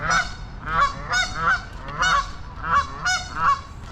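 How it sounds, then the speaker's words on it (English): Guard geese honk repeatedly nearby on a walk in Calgary, loud nasal calls in about six quick paired bursts at an even rhythm. "We got guard geese."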